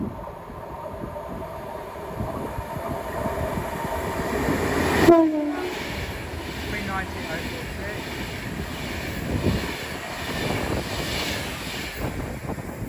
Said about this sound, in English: Soon to pass through now, about 25 minutes late, will be a Adventure West Coast 390 Pendolino, going from London Euston to Manchester Piccadilly.